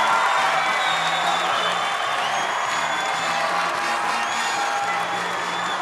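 A basketball crowd at the Keeter Athletic Complex cheers and claps in a steady, dense roar that fills the whole stretch, with whoops rising now and then.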